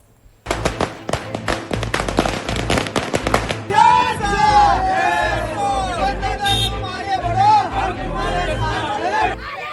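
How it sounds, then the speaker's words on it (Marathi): Election victory celebration in Solapur district, with a loud crowd chattering and shouting while firecrackers crackle in rapid bursts at the start, then dense festive hubbub with whistles and voices that carries on steadily to the end. "सोलापूर जिल्ह्यातल्या वेगवेगळ्या तालुक्यातला हा विजय जल्लोष"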